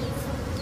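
Honeybees buzz steadily and close by in the flower fields of Luoping, a continuous droning hum with no voices.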